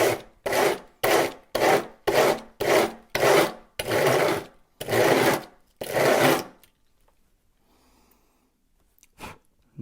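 A broadhead is filed in a KME sharpening jig with nine rhythmic, close rasping strokes, each a loud scraping pass, followed by quiet and a couple of faint clicks.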